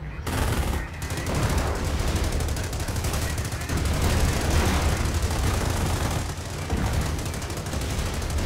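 Machine gun fire and explosions in a Company of Heroes base siege, with dense, continuous bursts of automatic gunfire and booming impacts that fill the whole stretch, loud and close, with battle noise layered throughout.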